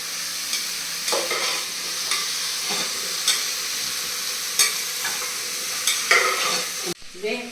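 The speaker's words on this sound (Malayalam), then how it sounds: "കുറച്ച് നന്നായിട്ട് ഇതൊന്ന് വഴറ്റാം." Onion, brinjal, snake gourd and yam for sambar sizzle in a pan, with regular scraping and tapping strokes of a spatula stirring them up close.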